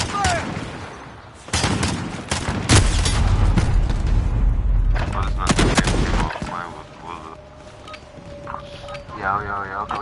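Loud bursts of gunfire and booming blasts in Call of Duty: Warzone on PS5, arriving in clusters with pauses between them, while voices speak over the action.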